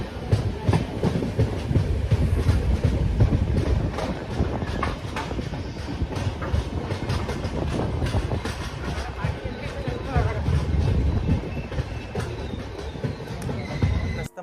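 Inside a coach of the Rayalaseema Express, the train runs with a continuous loud rumble and rattling clatter of wheels on track, steady throughout with scattered knocks and no clear talk.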